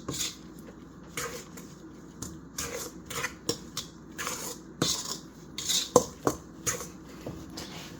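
Lemon pound cake batter being stirred in a bowl, with soft scraping and knocking of the utensil against the bowl in an irregular rhythm, fairly quiet and close, with no talking.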